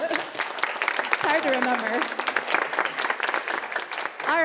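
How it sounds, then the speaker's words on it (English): Audience applause at a high school spring choral concert, steady clapping throughout, with people speaking and cheering close by over the claps. "Clap for them."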